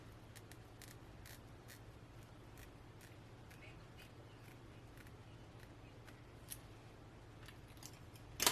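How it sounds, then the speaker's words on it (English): Scissors snip through the lace and tabs of a blonde Outre lace wig, a run of small, crisp cuts repeating in a quiet room, with one louder snip near the end. "we're gonna pin it back and cut the lace and cut the tabs off"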